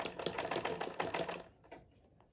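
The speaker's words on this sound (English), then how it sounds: "I'm sewing now on my half inch." Sewing machine stitching fabric for a bodice, a quick rapid run of needle clatter for about a second and a half, then a few softer mechanical clicks as it stops, faint and close.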